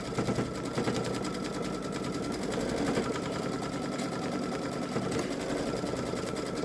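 A Babylock Solaris Vision embroidery machine stitches an edge-to-edge quilting pattern, its steady rapid needle hum running continuously and close throughout with no pauses.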